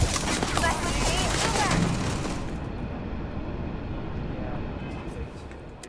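Rapid gunfire bursts in the sci-fi video game Starfield, dense and loud for the first two seconds before trailing into a softer rumbling noise bed.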